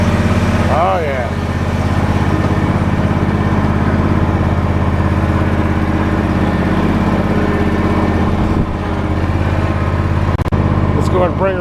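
An Ariens IKON X 52-inch zero-turn riding mower with a 23 HP Kawasaki engine runs steadily at close range, a loud continuous drone with a few faint clicks near the end.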